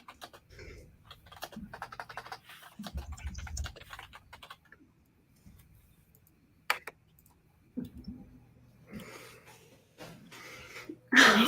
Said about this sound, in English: He's typing again.